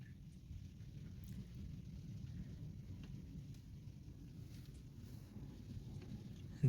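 Low, steady rumble of rain in the Kuwait desert heard from inside, a muffled continuous wash with a few faint taps.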